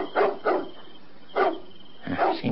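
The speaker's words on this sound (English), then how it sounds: "Seems like you're barking at something up that tree." A dog barks up at a tree at night, four separate barks spaced out with quiet gaps between them, close and fairly loud, no talking.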